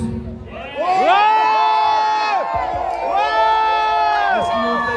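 Concert crowd at the Maison du Peuple in Toulouse shouting and cheering in two loud, swelling bursts with piercing whoops rising above the roar.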